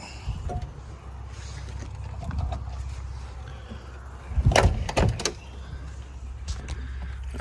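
The handle of a locked Grand Wagoneer door is pulled a few times with sharp clicks and clunks as the door refuses to open, under a low idling hum.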